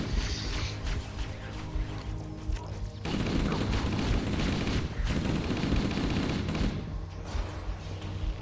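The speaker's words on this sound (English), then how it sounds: "So many explosions." Explosions and bursts of gunfire in the Halo: Combat Evolved Anniversary video game on PC, a dense continuous barrage of blasts and shots that swells louder from about three seconds on, with grenades going off.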